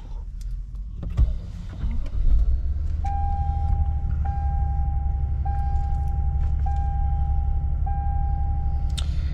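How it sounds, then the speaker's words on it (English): A 2022 Toyota Tundra CrewMax Platinum starts with a short mechanical burst, then settles into a steady, close idle rumble while a soft electronic chime repeats at regular intervals. "I'm going to start the vehicle up here."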